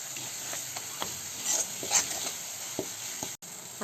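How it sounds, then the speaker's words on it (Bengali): Mashed fried eggplant is stirred and pressed by hand into a bowl of mixings for eggplant bharta, soft squelching and tapping strokes repeating close up under a steady faint hiss. "এভাবে করে আমি পুরো বেগুনটা এর সাথে মেখে নিলাম"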